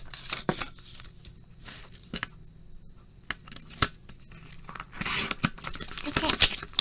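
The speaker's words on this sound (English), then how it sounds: "I like this cutter. It's got, I don't know if you can see it, it's got a little wire in it that you can line up exactly where you want to cut at" A paper cutter with a guide wire slicing a luggage tag for junk journaling, heard as short dry scraping cuts and paper rustles in quick bursts, up close with light background noise.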